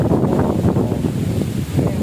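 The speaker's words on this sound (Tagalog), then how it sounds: "napakalakas dito ng hangin" Strong wind buffets the microphone in loud, gusty low rumbles throughout, with no voices.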